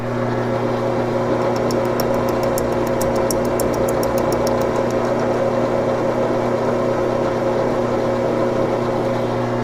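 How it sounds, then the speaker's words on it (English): A machine cuts teeth on a plastic gear, giving a constant tonal motor hum with a layered drone. A brief burst of rapid, even ticking comes early and then fades. "Now I've cut that gear."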